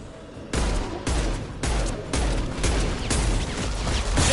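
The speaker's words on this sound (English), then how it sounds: "Taking heavy fire!" Heavy gunfire in the Mass Effect video game, a dense volley of shots and booms arriving in repeated bursts about every half second, loud and sustained with no talk over it.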